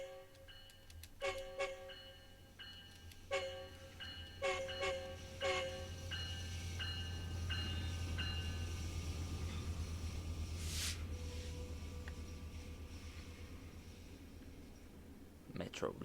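Metrolink F125 locomotive on the Antelope Valley Line rolling past in Train Sim World 4, a steady low rumble swelling and fading over the pass, with sharp tonal beeps and clicks early on.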